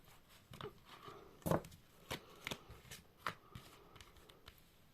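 Angel tarot cards are shuffled by hand in a quiet room, making soft riffling bursts and a few sharper snaps at an irregular pace, close and fairly faint.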